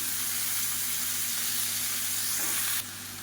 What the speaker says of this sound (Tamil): கத்திரிக்காயும் உருளைக்கிழங்கும் சேர்த்து நல்லா வதக்கியாச்சு